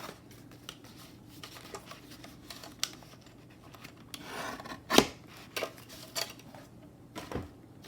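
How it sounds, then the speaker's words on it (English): Scissors snipping paper ephemera for a junk journal, a few separate crisp cuts standing out above a quiet, busy room background. "I will have to cut it down a little bit in order to fit those, so I better chop that down."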